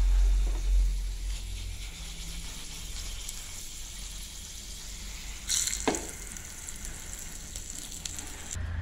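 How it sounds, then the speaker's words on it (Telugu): Hot tempering with turmeric is poured into a freshly ground ajwain-leaf chutney, giving a close frying sizzle with a sharp, loud hiss burst partway through, then a steady crackle with no talk. "ఇప్పుడు మనం తీసి పెట్టుకున్నటువంటి ఈ పచ్చళ్ళలో పోపు నేసేద్దాం"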